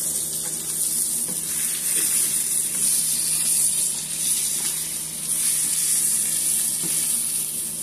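Salmon frying in butter in a pan, a steady, close sizzle with a bright hiss that holds without a break throughout.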